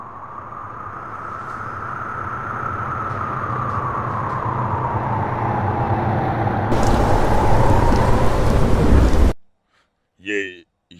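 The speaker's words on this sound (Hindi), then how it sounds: "ये तूफान कैसा?" Thunderstorm with heavy rain builds as a loud, dense roar that swells steadily, cuts off abruptly, and is followed by a short burst of other sound.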